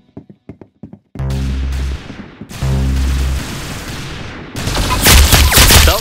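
Rapid gunfire in the Roblox game Arsenal: a string of short sharp shots followed by loud sustained bursts of automatic fire and booming blasts, close and forceful.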